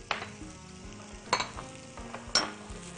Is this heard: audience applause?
no